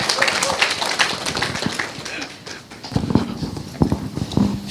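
A church congregation at a Harvesters revival service applauds: dense, steady clapping from many hands fills the room, rising again strongly in the second half.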